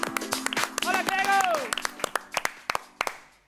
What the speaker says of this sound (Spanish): Fuerte aplauso para Grego Roseló